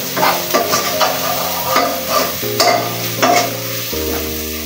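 Ginger and garlic fry in a pan with a loud, close sizzle, broken up by repeated scraping and clinking of a utensil stirring against the metal, and a low steady hum underneath.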